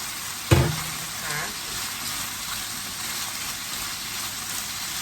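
A loud thump as bell peppers drop into a small hot pan, followed by a steady, bright sizzle of stir-frying.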